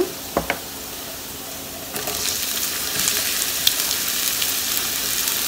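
Garlic and onion sizzling in a hot pan, cooked for a Punjabi baingan bharta, with a couple of sharp clinks at the start, then a steady close frying hiss that swells and holds.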